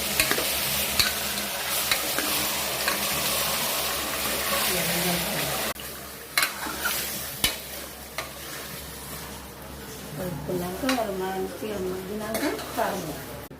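Chicken curry being stirred in a pan, with steady loud sizzling, spoon scrapes and clinks against metal, and a voice speaking briefly in the later part.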